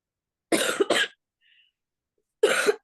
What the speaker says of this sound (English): Excuse me if I'm coughing my head off,